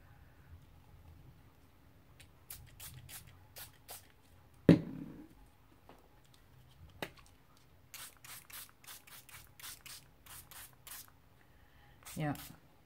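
Short hissing bursts of an aerosol spray can spraying paper, a rapid series of quick puffs close by, with light handling noises and a sharper knock in between.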